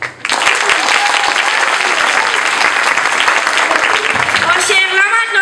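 Audience at a school graduation ceremony claps steadily and loudly for the children, dense applause filling the room without a break before easing off at the very end.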